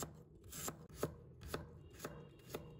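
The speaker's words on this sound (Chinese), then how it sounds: "再准备一块去皮的生姜，把它切成片。" A knife chops through a peeled piece of fresh ginger on a board in five or six quiet, evenly spaced strokes, with nothing else heard.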